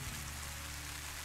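Rain falls outdoors on an open plateau as a steady broadband hiss, continuous and fairly even throughout, with no voices.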